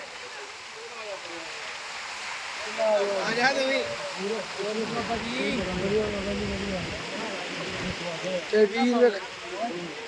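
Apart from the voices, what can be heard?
fast rushing river water near Harike headworks bridge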